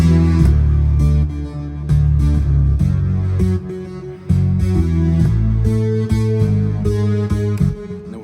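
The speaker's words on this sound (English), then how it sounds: "the bass line is just the best part because it's got this alternating bounce that just goes back and forth" Funky alternating bass line bouncing back and forth in call-and-response fashion, backed by steady drums, claps and cowbell; loud, dense and continuous with no voices.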